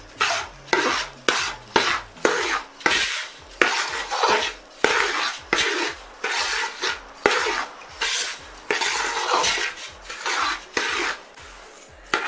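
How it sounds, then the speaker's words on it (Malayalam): A spoon scrapes and stirs dry pooram powder mixed with sesame seeds in a vessel, giving a steady run of about twenty close, rasping strokes with no voices. "ഇനി നന്നായിട്ട് ഇളക്കി കൊടുക്കാം."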